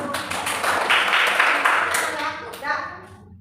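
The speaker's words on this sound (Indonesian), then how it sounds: "Iya, tepuk tangan untuk kelompok 1." Schoolchildren in a classroom clapping together for a group, a short burst of hand claps in a loose rhythm with children's voices mixed in before it fades.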